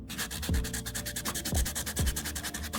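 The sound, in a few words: sanding spackle with a sanding pad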